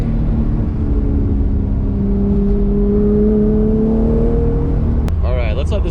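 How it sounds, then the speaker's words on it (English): A BMW E36 M3 fitted with loud headers drives along the street, its engine droning close and loud with a rising, then falling tone as it revs and shifts, ending in a sharp transient burst. "Let you guys hear the car."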